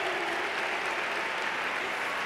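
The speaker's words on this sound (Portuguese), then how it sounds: "Vamos aplaudir a Olivia" A congregation at a worship congress applauds a guest from Poland, giving a continuous, even roar of many hands clapping, heard from a distance and sustained throughout.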